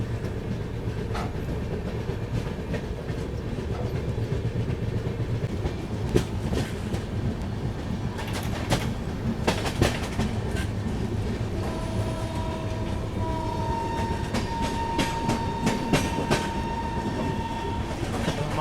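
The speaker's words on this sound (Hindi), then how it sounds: "मुंबई से हज़रत निज़ामुद्दीन अगस्त क्रांति राजधानी एक्सप्रेस" Mumbai to Hazrat Nizamuddin August Kranti Rajdhani Express hauled by a WAP7 electric locomotive rolls along steadily, a continuous loud rumble with rhythmic clickety-clack of wheels over rail joints and scattered sharp clanks.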